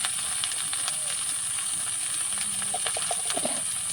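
Okra tipped into a pan over browned onions fries with a steady, even hiss and sizzle, mid-level in volume, with faint scraping and clicks on top.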